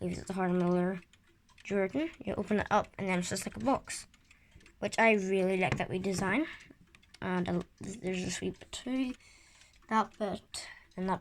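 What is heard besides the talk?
None of the usual background noises is heard.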